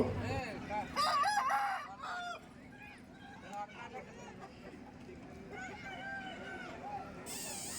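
Roosters crow at a Pongal festival cockfight in a village near Amalapuram, with several drawn-out calls rising over a crowded, noisy outdoor gathering and people talking throughout.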